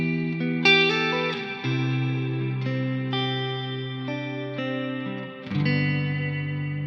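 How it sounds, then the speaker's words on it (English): Sustained electric guitar chords ring out with lush reverb and delay, each strum blooming and trailing into a wide, spacious wash. "I still have that cool and great reverb tone in the background"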